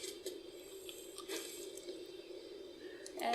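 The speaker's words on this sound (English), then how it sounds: "maybe it's just the water that's rushing underneath us" Water rushing and trickling beneath the player in Starbound with the Frackin Universe mod, a faint steady flow with a few brighter splashes and drips, alone with no talk.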